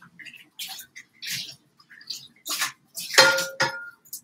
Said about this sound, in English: All right, I better wash up my pan.